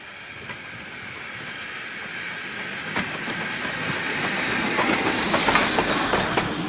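A 062 tank steam locomotive running light engine on the Great Central Railway near Loughborough, a steady rolling rumble with clicking rail joints and hiss that grows gradually louder as it approaches.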